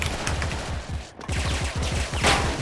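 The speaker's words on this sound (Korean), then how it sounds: "좀 정신없이 쏘고 있긴 한데" Gunfire in the online shooter Special Force: loud, sustained automatic fire with rapid rhythmic shots that pause briefly at about one second, then resume and continue to the end. No talk is heard over it.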